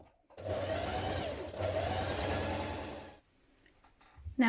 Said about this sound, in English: You're now going to do a line of gathering stitches on each side between those notches.